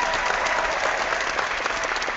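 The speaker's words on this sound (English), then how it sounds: "I don't know if you could hear that, but there was some applause" An audience breaks into steady applause, a dense wash of many hands clapping at once, fairly loud and continuous throughout with no voices over it.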